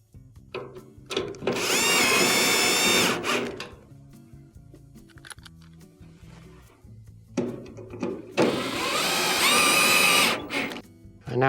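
A power driver sets two screws into a Whirlpool dryer panel, two sustained whirring bursts a few seconds apart with quieter handling clicks and rustling between them.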